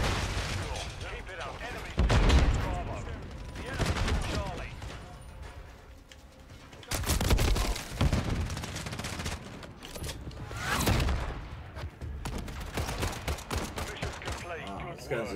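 Video game gunfire, including a shotgun, comes in repeated bursts of loud shots with gaps between them, mixed with speech.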